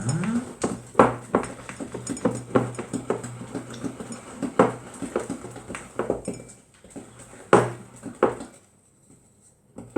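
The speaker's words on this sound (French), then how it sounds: "On mélange bien, on mélange bien, on mélange bien." Lemon pound cake batter being mixed in a bowl, with a utensil clinking and scraping against the dish in quick irregular strokes, close and moderately loud, fading to quiet near the end.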